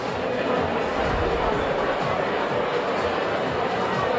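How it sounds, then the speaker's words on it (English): Crowd at the Suffolk County Republican election night headquarters in Patchogue, a constant dense babble of many voices mixed with background music, loud and unbroken throughout. "The crowds are energized, and Suffolk Republicans say they feel confident they will be celebrating today."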